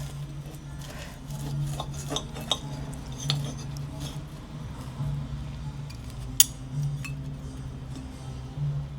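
Cutlery scraping and rasping against a plate while slicing a piece of deep-fried, grill-finished halloumi with balsamic glaze, a run of soft rubbing strokes with a few small clinks over steady low restaurant hum.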